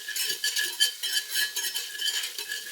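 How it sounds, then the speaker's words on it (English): Flour whisked into hot bacon grease in a pan for biscuit gravy: a bright, close sizzle pulsing in quick, regular strokes as the whisk moves, with no voices. "I'm going to add in 1 tablespoon of flour. And you want to whisk that around."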